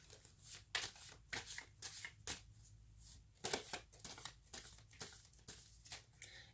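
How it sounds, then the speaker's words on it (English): Tarot cards are shuffled by hand in a quiet room, a steady run of close, papery riffling bursts at irregular intervals with no talking. "Okay, so I'm going to shuffle the cards."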